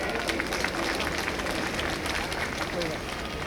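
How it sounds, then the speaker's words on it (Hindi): An audience at a formal lecture event applauds to welcome a speaker to the stage, a dense, even roar of clapping that holds steady throughout at moderate loudness. "उनका जोरदार तालियों के साथ स्वागत किया जाए।"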